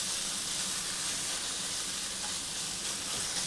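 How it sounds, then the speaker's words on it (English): Minced meat sizzles steadily in a wok, a loud, even hissing fry with no talking. "Sizzling away."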